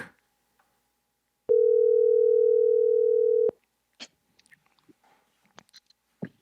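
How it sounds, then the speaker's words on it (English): A telephone rings during a call, heard as a single steady electronic tone lasting about two seconds, followed by faint clicks and small handling noises in near silence. "Man, it rang a couple times."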